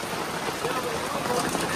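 Hail coming down at an outdoor fair in Nepal, a dense, continuous rattling patter close by that fills the whole moment without letup.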